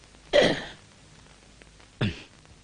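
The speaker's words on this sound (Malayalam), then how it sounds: "ഒരിക്കൽ കൂടി ചുമക്കൂ." Two separate coughs from a person, one strong burst followed by a shorter cough after a pause, close by, with no speech.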